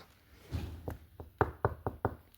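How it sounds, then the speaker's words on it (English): Knocking on wood out on a hiking trail: a few faint raps, then a quick run of four sharp, evenly spaced knocks, close and dry with quiet pauses between, no voices. "That is me knocking on wood."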